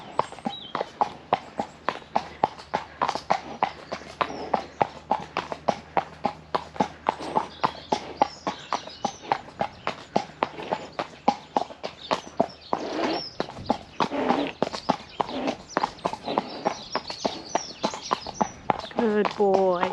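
Horse walking on a hack during a ride, with a steady rhythm of clip-clopping hooves close by throughout, while a rider talks now and then and a rooster or birds sound faintly in the background.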